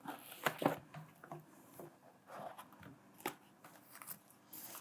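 Plastic packaging of a store-bought Ken's Cafe Tokyo gâteau chocolat being opened, a string of close, quiet crinkles, snaps and rustles, with a few sharper crackles among softer handling sounds.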